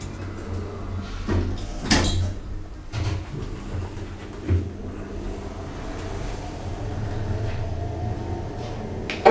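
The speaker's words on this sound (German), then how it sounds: "Achtung, Tür schließt." An elevator's sliding door at Hagen main railway station rumbles shut with a couple of soft knocks over a low mechanical hum, followed by steady machine drone.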